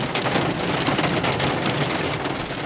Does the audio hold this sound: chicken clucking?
no